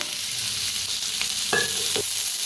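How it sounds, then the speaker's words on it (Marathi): Onion sizzling in mustard oil in a pan, a continuous close frying hiss with a brief tonal scrape or clink near the end, no speech present. "आता कांदा थोडासा हलकासा भाजत आलाय, तेल ओतून भाजूया।"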